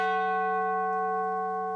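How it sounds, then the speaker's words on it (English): A single deep church bell toll rings out loud and sustained, its rich harmonic hum slowly decaying with no other sounds around it. "the bell tolled again"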